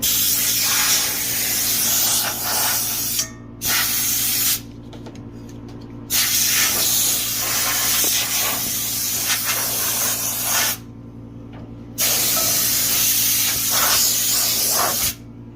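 Compressed air blowing off a red powder-coated PTO shield for a Farmall Super A tractor: loud, close hissing bursts of several seconds each, broken by short silent pauses.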